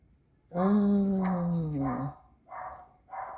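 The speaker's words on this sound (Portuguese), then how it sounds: "Cachorrinho da vizinha late tanto." A neighbor's small dog gives a drawn-out, whining yelp followed by two shorter barks, fairly close and clear against a quiet background.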